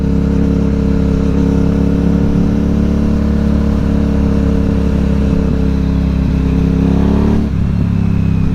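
An Aprilia Dorsoduro 750 motorcycle engine pulls hard and loud from close range, a steady rising drone that climbs in pitch near the end.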